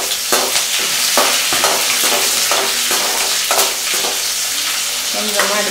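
Green chillies sizzle loudly in a hot pan while a spoon scrapes and stirs in repeated strokes, close and steady, with no talking.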